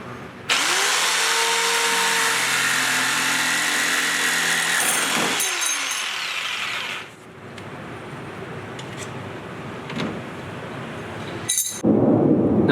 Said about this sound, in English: the aluminum I'm gonna cut out with some drills